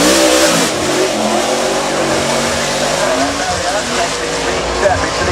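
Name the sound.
NASCAR race car accelerating up the hill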